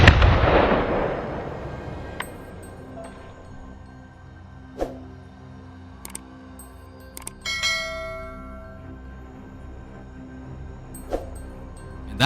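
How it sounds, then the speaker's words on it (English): A single booming shot goes off near the start and fades into a long echo through a forest during a hunt, after which only a few faint, scattered sharp knocks and clicks break the quiet. "A final booming shot echoed through the forest, sealing a perfect end to a long day of hunting."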